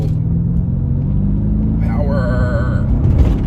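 A Mercedes E55 AMG accelerates with a deep, continuous low rumble, and a rising whine climbs in pitch partway through as the car pulls under power, close and fairly loud.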